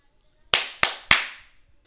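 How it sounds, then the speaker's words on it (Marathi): Three crisp hand claps ring out in quick, evenly spaced succession in a quiet room, each snapping loud and close before fading fast, as in a storybook scene of a king summoning his court. "3 टाळ्या वाजवल्या."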